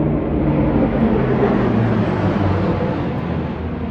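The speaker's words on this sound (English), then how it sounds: "there's a plane coming" A low, broad roar of an airplane passing overhead fills a garden, a steady rushing drone that swells slightly and then begins to ease away, with no one speaking.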